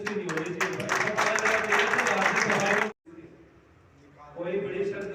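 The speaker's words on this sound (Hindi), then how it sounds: "तालियों में कंजूसी नहीं होनी चाहिए।" Audience clapping at a Holi gathering of a sanitation workers' trade union in Mehrauli, a loud burst of applause that stops abruptly, then a quiet stretch before voices and room noise pick up.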